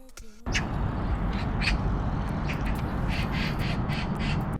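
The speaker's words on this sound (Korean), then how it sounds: "까치 소리가 종주의 좋은 결말의 복선처럼 유난히 경쾌하게 들리는 듯 했습니다" Harsh magpie calls repeat in a rapid series over steady background noise, moderately loud and fairly near.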